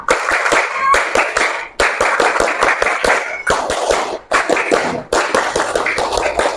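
A standing class performs the "tepuk tanda dewasa" clapping chant, loud, crisp, rhythmic hand claps in patterned bursts broken by brief pauses, close by, with voices faintly chanting along.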